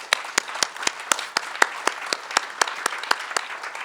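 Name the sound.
audience applause for armed forces members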